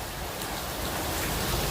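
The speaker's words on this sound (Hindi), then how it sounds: "बारिश हो रही है, ज़बरदस्त तेज़ आंधी चल रही है" Heavy rain pours down at night in a village during a strong windstorm, a loud, dense, constant hiss of falling water and spattering drops with no voices.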